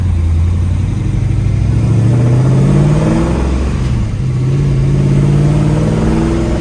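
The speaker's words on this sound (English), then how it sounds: "Going for a quick spin in the 1963 500." A loud 1963 Ford Galaxie XL 500 engine runs steadily close by, rumbling and revving up and down as the car drives along, with no voices.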